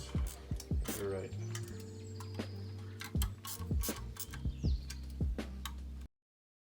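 A ratchet tightening coil pack bolts on a Nissan RB series engine, giving a series of close, crisp pawl clicks in short runs over a steady background hum, then stopping abruptly.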